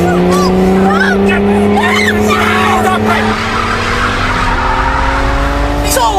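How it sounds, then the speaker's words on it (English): A car swerving out of control on a road, its tires squealing in long rising whines over a steady engine roar for about six seconds, with panicked voices shouting over it. "Richard, stop the car, please."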